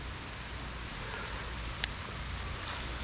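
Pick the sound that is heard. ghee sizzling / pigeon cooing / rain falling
rain falling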